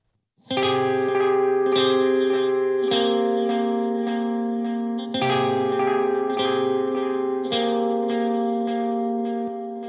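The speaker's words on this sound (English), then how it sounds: "it's adding a cool ping pong delay, going from one side to the other" Ambient electric guitar plays slow chords through a ping-pong delay, each strike followed by repeating echoes bouncing side to side that ring out and overlap in a wide, spacious wash.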